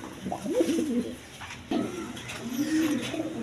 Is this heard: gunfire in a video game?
no